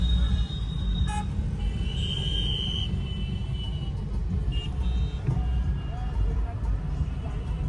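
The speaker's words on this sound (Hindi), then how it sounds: "बस हॉर्न पे हॉर्न बजे पड़े हैं सबके" Car horns toot repeatedly in a long, slow traffic jam on an Indian road, several short and sustained honks over a steady engine rumble, with voices talking underneath.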